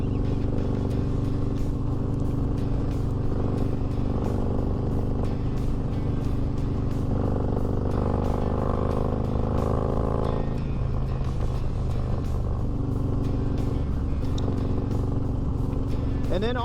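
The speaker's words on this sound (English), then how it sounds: "let's get her out, but she's a 900-pound motorcycle" A 900-pound motorcycle with a new stage 4 engine running during break-in, a steady loud rumbling drone with rising and falling revs while someone talks over it.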